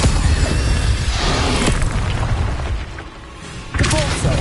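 Loud, dense spell blasts and magical booms in the Hogwarts Legacy video game, with layered whooshes, rumbling impacts and crackling bursts filling the whole stretch, briefly easing before another surge.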